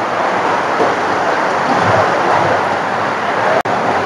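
Steady rain falls on a rainy day at a home in Bengal, a dense, even hiss running throughout with no voices and one brief dropout near the end.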